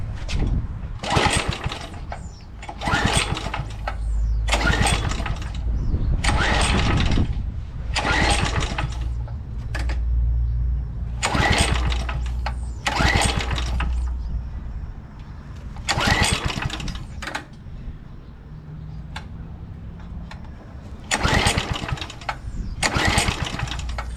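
A 2007 McLane reel mower with its choke on and a freshly cleaned carburetor cranks repeatedly, each loud burst of small-engine noise followed by a pause, about ten pull-start attempts sounding close by with no talking.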